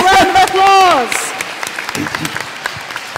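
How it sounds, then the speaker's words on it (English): A voice speaks briefly, then an audience at a Shakespeare talk breaks into scattered, moderately loud clapping that continues to the end. "Please give Thank all you. Our volunteers a round of applause."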